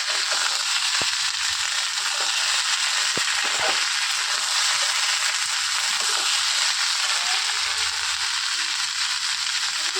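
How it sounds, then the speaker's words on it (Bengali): Pumpkin and potato pieces frying and being stirred in a pan, a loud, constant hiss of sizzling oil with sharp scraping and tapping of the spatula now and then. "এবারে আমি ভালো করে নাড়াচাড়া করতে থাকবো, যাতে একটু মানে কুমড়োগুলো আলুগুলো একটু গাপোড়া গাপোড়া মতো হয়"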